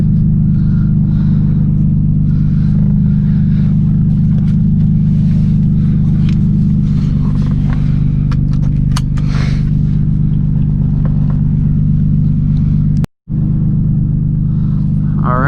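Nissan 350Z with a straight-piped HKS exhaust idling warm, a loud, steady low rumble close by with a few small revs and a brief dropout near the end; no talking.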